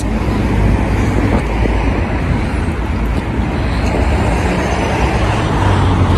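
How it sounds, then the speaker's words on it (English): A police car pulls into a parking lot already crowded with police vehicles, its engine and tyre noise forming a steady, loud roadway rumble that stays level throughout without clear changes. "That's another police vehicle pulling into a very already full of police vehicles lot."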